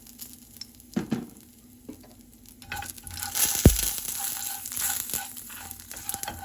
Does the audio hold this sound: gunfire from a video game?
no